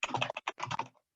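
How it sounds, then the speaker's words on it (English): Rapid bursts of computer keyboard typing during farm budgeting software training, a quick run of close keystrokes in several clusters that trail off into silence. "So if I just start typing in"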